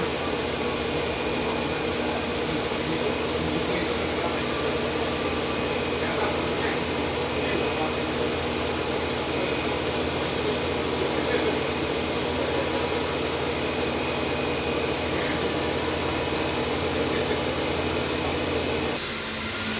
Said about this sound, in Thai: ตอนนี้คอมแอร์ตัดนะคะ คอมแอร์ทำงานค่ะ คอมแอร์ก็ตัดต่อปกตินะคะ